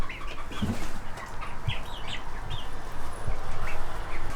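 Chickens in their enclosure clucking and murmuring softly, a few scattered calls and faint rustles over a steady ambient background.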